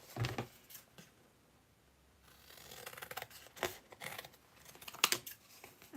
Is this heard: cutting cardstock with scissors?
yes